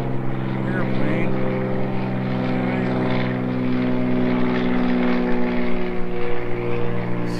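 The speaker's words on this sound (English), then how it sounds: "And here's another airplane." A propeller airplane flies overhead near a shed building site, its steady droning engine hum loud and continuous with a strong low tonal pitch, a voice speaking over it.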